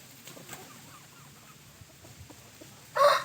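Young Pa Koi chickens, seven to eight months old, cluck faintly and sparsely at first, then one bird gives a sudden loud, close crow near the end.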